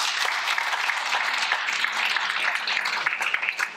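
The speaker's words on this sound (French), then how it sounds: "on l'applaudit." A conference audience applauds a welcome speaker, dense sustained clapping from a sizeable crowd filling the room at even strength throughout.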